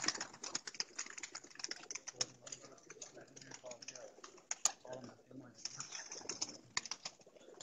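Pigeons in a champion racing loft in Sialkot give a few low, soft coos amid scattered clicks and fluttering, with voices murmuring nearby.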